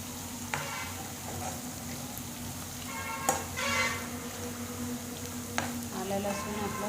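Ginger, garlic, bay leaf and cardamom frying in oil for chana masala, a soft steady sizzle with occasional stirring scrapes and clinks, close and fairly quiet.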